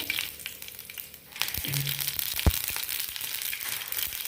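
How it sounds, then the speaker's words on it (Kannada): Mustard seeds dropped into a hot pan on a stove, a soft crackling sizzle with a few sharp pops, close and steady over a continuous hiss with no talking. "ಪ್ಯಾನ್ ಇಟ್ಟಿದ್ದೀನಿ ಸ್ಟವ್ ಮೇಲೆ ನೋಡಿ ಸಾಸಿವೆ ಹಾಕ್ತಾಯಿದ್ದೀನಿ"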